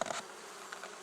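Soft honeybee buzzing at a top bar hive, a few faint droning passes close by, with a brief louder buzz at the start; no voices.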